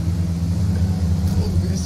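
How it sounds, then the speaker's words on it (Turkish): A car engine rumbles low and steady in PUBG's bumper-car mode, a continuous deep drone with slight wavering, heard under excited talking. "Çarpışan araba abi, bildiğiniz çarpışan araba oldu lan."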